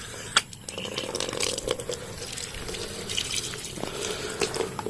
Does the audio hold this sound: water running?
yes